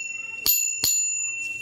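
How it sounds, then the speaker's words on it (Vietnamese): Bigaton bell on a vintage bicycle rung twice in quick succession, each bright metallic strike leaving a sustained ringing tone that lingers and fades slowly, close and loud, with no talk over it. "chuông Bigaton, nó chữ nghĩa rõ ràng"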